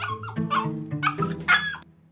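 A dog in a cartoon-style chocolate challenge scene gives several short whimpering yips and barks in quick succession, close and moderately loud, with musical tones underneath.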